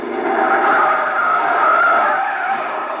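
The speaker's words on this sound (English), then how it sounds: "Jam on the brakes." A car braking hard in an old radio drama, its tires skidding in one sustained screech that holds loud and steady for the whole stretch, with no voices over it.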